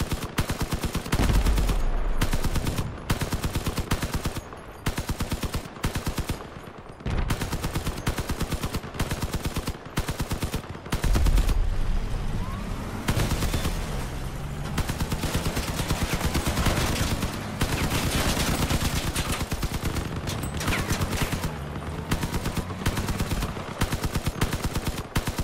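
Heavy vehicle weapons fire during a Crossout match, a long stretch of loud, repeated sharp bursts with short gaps, some deeper booming blasts mixed among the rapid shots.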